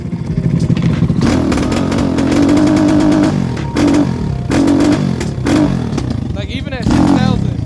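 A Lifan ZS175FMN engine swapped into a Lifan KP Mini 300 motorcycle revs hard at full throttle, around 6,000 rpm, with a loud, close, buzzing roar that rises and dips in repeated surges alongside some rattling clatter.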